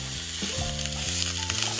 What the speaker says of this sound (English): Pour a little olive oil into the pan, add the minced meat and start frying.